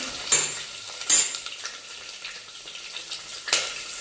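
Frying in a pan while making pea paneer pulao, a soft background sizzle punctuated by a few sharp metallic spoon knocks against the pan, close with no speech.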